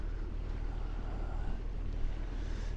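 A sailboat motors on calm Arctic sea near Svalbard, a steady low engine drone mixed with wind buffeting and faint water wash, close and continuous.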